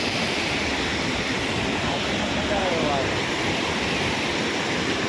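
Jamjir waterfall in Gujarat, flowing in the peak of summer, gives a dense, unbroken roar of rushing water that stays loud and even throughout.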